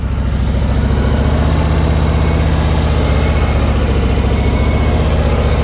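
A motorcycle engine holds a steady throttle during slow-speed riding practice, giving a continuous, loud, even drone with a low pulsing idle-like rumble and no voice over it.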